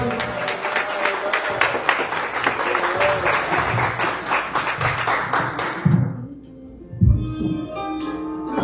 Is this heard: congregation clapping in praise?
yes